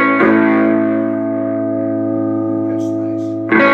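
An electric guitar on its neck pickup holds a long sustained chord that rings and slowly decays, with a fresh strum at the end; warm, mellow tone.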